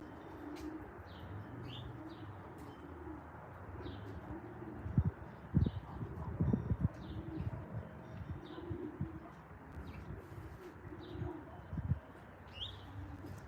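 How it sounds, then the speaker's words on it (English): Pigeons coo softly in a loft, with low murmuring calls layered through a steady background hum, while a few louder wing flutters and shuffles rise briefly near the middle. "Coming to see pigeons."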